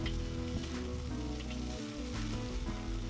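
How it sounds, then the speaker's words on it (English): Buffalo-style sausage balls sizzle steadily on the grate of a Weber kettle grill, a dense continuous crackle at close range with no voices. "We'll grill these 2 or 3 minutes per side until we get it fairly cooked through."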